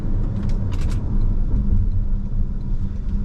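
A 2026 Toyota bZ electric car accelerating, giving a steady, smooth low rumble of road and motor noise from inside the cabin, with no engine roar and a few faint clicks.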